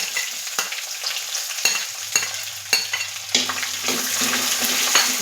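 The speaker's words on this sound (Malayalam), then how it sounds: "ഈ ടൈമിൽ ചെറുതായി കട്ട് ചെയ്ത് വെച്ചിരിക്കുന്ന ചുവന്നുള്ളി കൂടി ഇതിലേക്ക് ചേർത്ത് കൊടുക്കാം." Chopped shallots frying with garlic in a hot pan, a steady bright sizzle with several sharp stirring clatters breaking through and the frying growing fuller toward the end.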